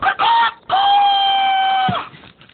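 A person imitates a rooster crowing, with a short first call and then a longer, loud, drawn-out crow close by, ending abruptly.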